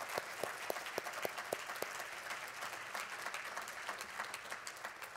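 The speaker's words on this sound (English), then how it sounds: "Let's give them a great round of applause." A quiet round of applause from a modest audience at a technology education summit, with a few sharp individual claps standing out early before settling into a soft, steady patter.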